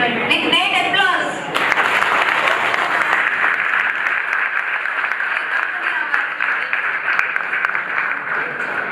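Loud, sustained applause from a large audience in a college hall during a 72nd Constitution Day celebration at a law college. A voice is briefly heard over the start, then the dense clapping continues alone.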